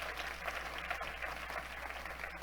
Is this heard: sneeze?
no